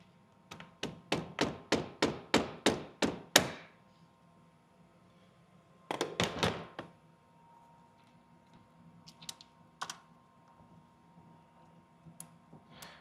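The back end of a screwdriver taps against a battery cable in a quick, steady run of about ten sharp knocks. A brief cluster of harder hits follows, then a few faint, scattered taps.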